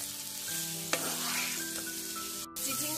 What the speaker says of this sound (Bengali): তো এখন আমি চিচিঙ্গা গুলো ভালোভাবে নেড়ে চেড়ে মিশিয়ে নেব।